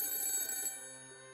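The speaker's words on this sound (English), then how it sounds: "my cell phone, sitting on the table, started ringing" A telephone rings with a bright electronic bell tone, the tail end of a ring fading out over about a second, heard indoors with no talk.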